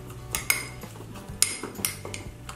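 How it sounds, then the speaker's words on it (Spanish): A spoon clinks against a bowl while stirring a chia seed and liquid stevia mixture for a sugar-free microwave cheesecake, giving a few sharp, close metallic taps over soft scraping, with no voices. "Remuevo."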